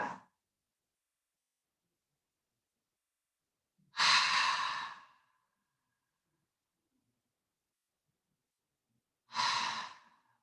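Long audible yoga exhales during a class practice, two breathy sighs about five seconds apart with a brief one at the start, heard alone in a quiet room.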